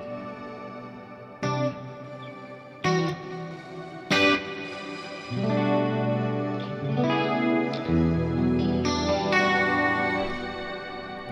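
Electric guitar run through a Fractal crystal echoes effect in series into a reverb, with struck notes and chords blooming into a shimmering, pitch-shifted wash of echoes that sustains and overlaps, loud and with no talking.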